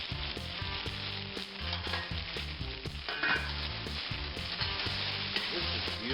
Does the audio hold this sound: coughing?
no